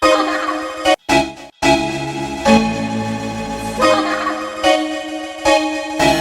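A hip-hop beat made in Logic Pro, with a producer tag washed in a heavy flanger effect, its mix and gain pushed up so the tag cuts through; dense, full-range and loud, with brief dropouts early on and no talking.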